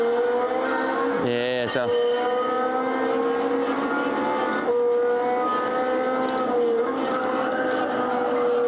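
A Ferrari race car engine in a video game drones steadily with a harmonic whine, a brief higher burst near the start, and a voice speaking briefly.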